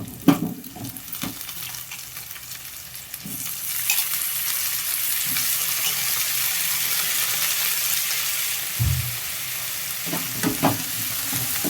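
Drumstick pieces drop into hot oil already holding fried onions and green chillies, setting off a loud, steady, close sizzle that runs on under a few clunks of the spoon against the pan, with no talk.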